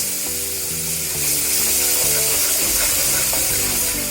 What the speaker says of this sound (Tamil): இப்போ இந்த பாயிலிங் வாட்டரை இதுல கொஞ்சம் கொஞ்சமா மிக்ஸ் பண்ணணும்.